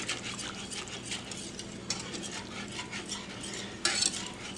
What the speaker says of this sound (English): you just want to make sure that you're constantly scraping the bottom